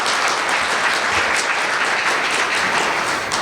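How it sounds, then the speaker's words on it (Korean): A room of CEOs at a G Valley CEO forum breaks into dense, continuous applause, even and full from start to finish with no talk over it. "위해서 큰 박수 한번 부탁드리겠습니다"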